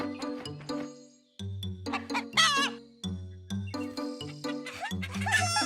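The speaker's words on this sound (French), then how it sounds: "Dans la basse-cour, Caillou a vu des poulets." Cartoon chickens cluck in a farmyard with short, choppy bursts of calls, loud and close, over a steady musical background.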